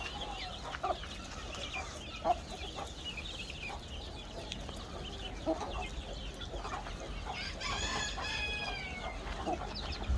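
Backyard chickens cluck steadily inside a cleaned coop, with a clear rooster-like crowing phrase rising near the end, close and continuous over a busy farmyard background, with no talking.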